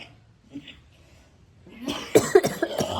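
After a quiet stretch with faint household noise, a person coughs several times in quick, harsh, nearby bursts in a village home.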